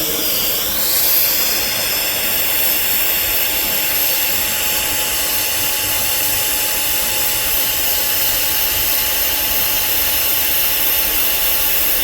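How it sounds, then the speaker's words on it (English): TIG welding a stainless steel pipe across a wide root gap, with filler wire held in the weld pool; a loud, steady arc hiss runs unbroken and close for the whole stretch. "I'm constantly keeping the filler wire in the weld pool."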